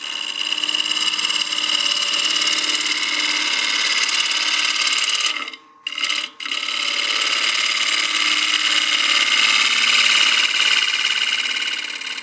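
A wood lathe spins a succulent planter blank while a gouge cuts, producing a loud continuous whirring scrape that briefly breaks off twice near the middle before resuming.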